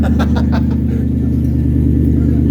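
A Nissan Titan engine idling and revving through a new cheap aftermarket exhaust, a loud, close, deep rumble with a few quick rising bursts early on before settling into a steady, throbbing drone.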